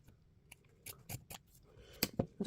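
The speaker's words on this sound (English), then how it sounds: "we'll just cut a couple of scraps and see" Scissors cut fabric scraps with a series of crisp snips, scattered at first and then quicker near the end, close and fairly quiet with no speech.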